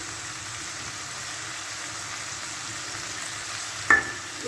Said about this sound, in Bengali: সেটার মধ্যেই দিয়ে একটু নাড়ানাড়ি করবো